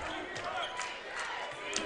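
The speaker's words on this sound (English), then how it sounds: "Eagle fans chanting defense, and you got a crowd here" Eagles fans at a boys high school basketball game between Vilonia and Greenbrier fill the gym with a dense, continuous crowd roar and rhythmic chant of defense, steady and loud throughout with sharper shouts rising near the end.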